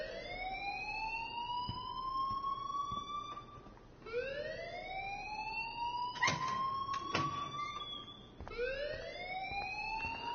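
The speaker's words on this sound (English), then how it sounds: "please turn off that alarm since that's your job" An alarm wailing in the video game Life is Strange, a rising siren-like tone that repeats in long sweeps every few seconds, fairly distant and steady, with a few sharp clicks between cycles.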